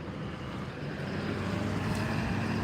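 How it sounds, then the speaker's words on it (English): Steady, dense road traffic rumbles along a city street where diesel trucks roll past, a continuous loud low-pitched drone that swells slightly toward the end, with no voices over it. "Fuck these diesel trucks, I hate them, they're too loud"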